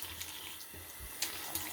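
Hot water runs steadily from a tap, poured for soaking a boar-bristle brush, a continuous close splashing hiss with no talking.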